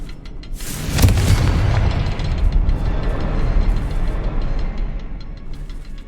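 A Confringo fire spell bursts in Hogwarts Legacy with a sharp, loud boom, followed by a long rumbling roar of blast debris that slowly fades out over several seconds.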